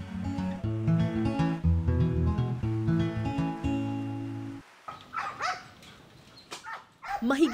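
Military working dogs of the Philippine Army's K-9 Battalion bark in a loud run of overlapping woofs, then give higher whimpers and yips, close to the microphone, with voices mixed in.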